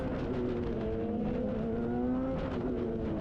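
A Radical race car engine on track at Sonoma during warm-up, heard as a steady loud in-car drone that rises and falls slightly in pitch as the car accelerates and lifts.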